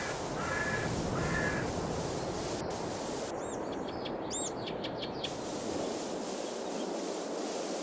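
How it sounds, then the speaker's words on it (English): Crows caw in Farming Simulator 22, a few short harsh calls at a distance over a steady outdoor wind-like hiss. "Really get to see the birds."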